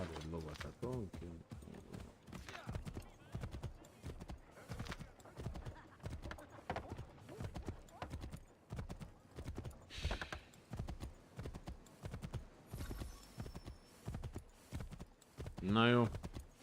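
Horse hooves clip-clop in a steady rhythm while riding in the video game Assassin's Creed III, layered with game music and someone talking over the gameplay, ending with a short whinny-like burst.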